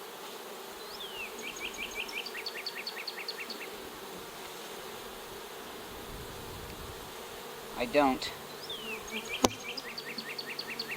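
Honeybees buzz steadily in a nuc hive box, a close, dense drone with a brief louder flurry near the end and a short spoken remark.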